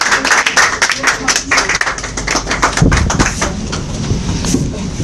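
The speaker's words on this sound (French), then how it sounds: "Applaudissez comme il vient." A church congregation claps in quick, loud rhythmic unison, the sharp beats dense and continuous, with voices mixed in and a thicker burst partway through.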